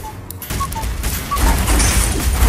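A turret is destroyed in Mobile Legends amid loud booming, crackling explosions that swell and rumble over a couple of seconds, layered with brief tonal game chimes.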